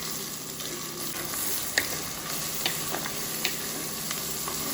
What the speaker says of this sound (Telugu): ఇలా ఆనియన్స్, ఇలా వేసుకొని బాగా కలుపుకోవాలి.